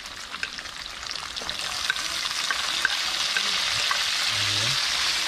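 Onions are added to a hot pan and fry with a bright, steady sizzle that builds and grows denser, with faint stirring clinks early on, close and continuous.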